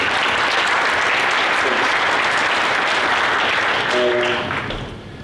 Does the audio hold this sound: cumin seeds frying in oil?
no